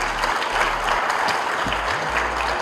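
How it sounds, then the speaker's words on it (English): Steady, dense applause from a large audience at a national youth summit in Pakistan, filling the whole stretch at a loud, even level without pause. "So a big applause for the youth sitting here."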